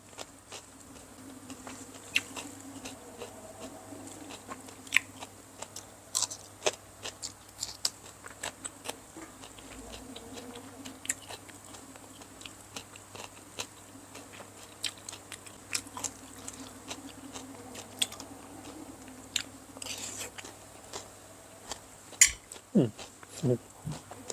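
Crunchy Burmese tea leaf salad (lahpet thoke) being eaten close to the mic, with sharp irregular crunches and chewing clicks over a quiet background.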